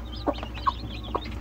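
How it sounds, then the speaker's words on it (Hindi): An Aseel rooster and hen give a few quick, faint clucks, three short calls over about a second against quiet background noise. "ये मुर्गा और मुर्गी जोड़ी आ रही है"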